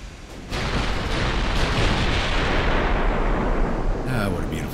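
Naval guns fire in the warship game Ultimate Admiral: Dreadnoughts, a heavy sustained rumbling roar after a brief lead-in, loud and dense, fading slightly with scattered crackles near the end.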